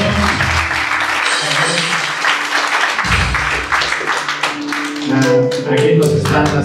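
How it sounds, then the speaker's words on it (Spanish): Audience clapping at an 18th-birthday celebration in Lima, sustained and dense, mixed with music and voices throughout, with a brief low thump midway. "fuerte las palmas, una vez más"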